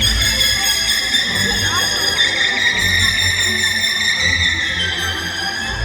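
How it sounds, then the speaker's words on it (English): A series of high, drawn-out whistling calls from a killer whale's blowhole, with layered overtones, rise and fall over a low background rumble, loud and sustained, at a marine park show. "Those sounds you just heard are coming out of Takara's blowhole on top of her head"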